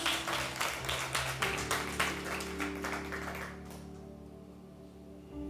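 A church congregation claps together in a burst of applause offered to God, rapid overlapping hand claps near and loud for a few seconds, then fading into a sustained organ-like chord.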